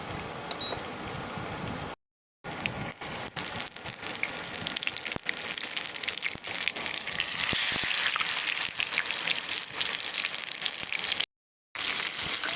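Chicken pieces fry in hot oil in a pan, a loud, dense crackling sizzle heard up close, broken by two brief silent gaps and swelling louder toward the middle, with no speech.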